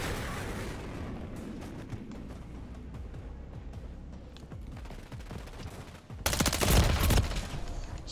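Rapid gunfire crackles through a Call of Duty MW3 firefight, with dense overlapping bursts and a louder, heavier volley near the end.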